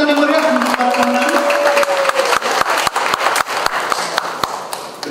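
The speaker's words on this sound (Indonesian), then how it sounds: "berikan tepuk tangan yang meriah untuk para pemenang" An audience applauds award winners at a Jakarta journalism awards ceremony, with dense sustained clapping. A voice speaks over the start, then rhythmic claps continue and slowly thin out.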